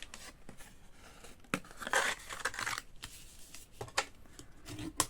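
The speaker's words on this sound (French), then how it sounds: "On marque les 4 plis." Thick kraft paper being creased into folds for a small DIY Christmas house box, giving close, crisp crinkling and papery scrapes in short irregular bursts, with no talking.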